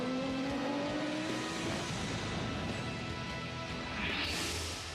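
Production race cars on the new Durban street circuit layout, 2013 South African Production Cars round: a steady, loud engine roar fills the scene, with rising whining tones and a higher surge near the end as cars pass close.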